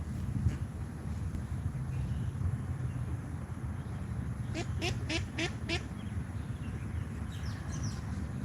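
A short burst of several quick quacks from ducks rises over steady wind and outdoor background noise, heard at middle distance.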